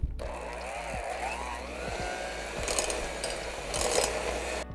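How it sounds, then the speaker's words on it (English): Hand mixer whirring through crumbled red velvet cake and cream cheese, a steady motorized buzz with rhythmic thumps and scraping as the beaters work the thick mixture, continuous and close with no talking. "Let's get our hand mixer. I'm going to go ahead and mix this all together until it is well combined."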